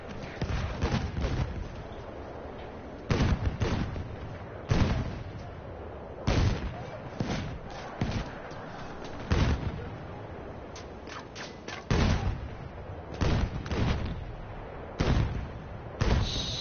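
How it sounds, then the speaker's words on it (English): Mortar fire in the war game Frontlines, a steady run of heavy booming blasts at irregular intervals over a continuous rumbling battlefield din. "So many mortars going over here."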